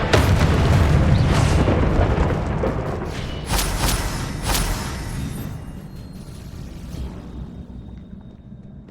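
A Confringo blasting spell explosion in the Hogwarts Legacy video game: a loud, deep boom that rumbles and slowly decays, followed by a few sharper bursts and fading debris.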